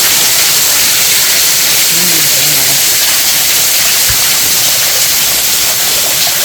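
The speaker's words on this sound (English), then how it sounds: "And see, it runs over the side too. So you've got a completely little closed-in shaded area. Water's running over." Water pours over the side of a shaded grotto at Fitzroy Falls in Morton National Park, a loud, constant close-up rush of falling water with a brief voice partway through.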